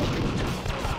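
Enemy gunfire in the arcade game Elevator Action Returns, a dense cluster of loud, blasting shots and booms in quick succession, close and continuous over about a second.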